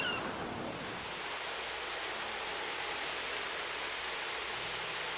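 An ocean-waves sound effect played as ambience during a tabletop game session gives a steady, even wash of surf-like hiss that holds at a constant level from start to finish.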